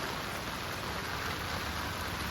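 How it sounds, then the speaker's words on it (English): A heavy rain shower falls steadily around a house with gutters, a constant even hiss of drops on surfaces with no pauses or voices. "So we're getting a really good rain shower right now"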